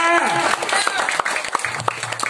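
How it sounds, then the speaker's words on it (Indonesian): A church congregation claps for Jesus, with loud, close, uneven claps ringing out over a lingering tone and a murmur of voices, then the sound tapers off. "Yang setuju boleh dapat tepuk tangan yang meriah buat Tuhan Yesus kita"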